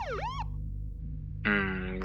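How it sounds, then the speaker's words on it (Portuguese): Police car siren switching on in a spooky roadside story, a rising and falling wail that starts, pauses briefly, then returns as a loud steady tone over a low rumbling background, with no voices. "Não percebi as luzes azuis e brancas piscando até as sirenes serem ligadas."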